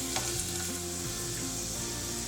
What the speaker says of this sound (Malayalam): ഞാൻ ഇതിലേക്ക് എടുത്ത് വെച്ചിരിക്കുന്ന 1 ടീസ്പൂൺ ഗാർലിക് ചേർത്ത് കൊടുക്കുകയാണ്